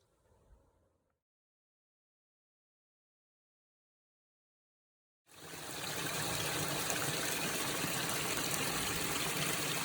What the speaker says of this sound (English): We've got Mahurton Creek over there, crashing down the rocks.